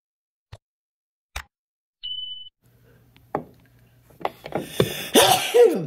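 A single human sneeze near the end bursts out loud and close after a few sparse clicks and a short electronic beep in an otherwise quiet workshop setting.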